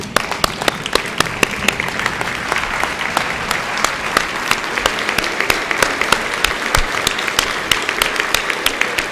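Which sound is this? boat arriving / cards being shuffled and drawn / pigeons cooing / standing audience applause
standing audience applause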